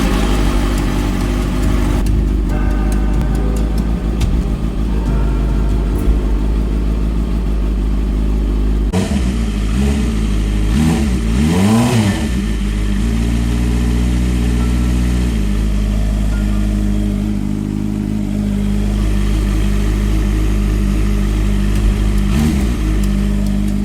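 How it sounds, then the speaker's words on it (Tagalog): A Honda CB650R motorcycle engine idles steadily after coolant flushing and radiator coolant replacement, running close and loud with no talk. Its harmonic drone shifts in pitch mid-way with brief throttle blips and wavering revs, then settles back to an even idle. "So, ayun, start na natin yung makina."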